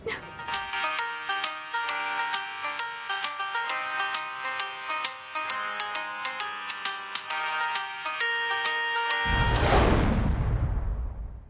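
A bright electronic ringtone melody plays repeatedly in quick, chiming notes, then cuts off into a short burst of rustling noise.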